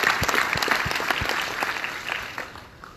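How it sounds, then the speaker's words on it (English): Audience applause at a corporate conference presentation, steady clapping from a large crowd filling the whole stretch, loud and sustained before tapering slightly at the end. "So a big round of applause for you."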